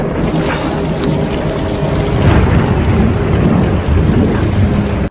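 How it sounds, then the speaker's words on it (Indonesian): Heavy rain pours down without letup in a cliffside setting, a loud dense roar with deep rumbling thunder rolling underneath, close and continuous, and no voices. "Kemudian hujan turun dengan deras"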